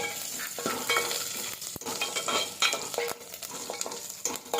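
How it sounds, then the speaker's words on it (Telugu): Mustard seeds and cumin frying in hot oil with curry leaves, a continuous bright sizzle with scattered sharp pops and crackles, fairly close, with light stirring scrapes and no talking. "ఆవాలు, జీలకర్ర వేసుకున్నాను. బాగా వేగనివ్వండి, బాగా ఎగితే బాగుంటుంది."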